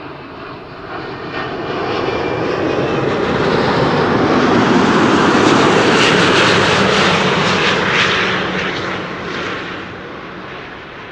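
A two-year-old Corendon A350 airliner, inbound from Bonaire, roars past on arrival; the broad engine rumble and rushing air swell to a loud peak midway, then slowly fade, with no voices over it.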